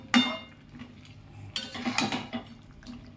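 Spoon scraping and clinking in a pan while coriander and cumin powder are stirred for a Bengali coriander chicken curry, with a few sharp metallic knocks and softer scraping strokes, close and moderately quiet.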